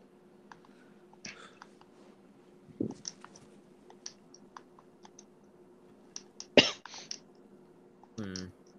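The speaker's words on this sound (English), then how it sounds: "Did you just cough?" A short cough rings out during a casual podcast recording, then another louder cough and throat sound follow among light clicks and faint background hum.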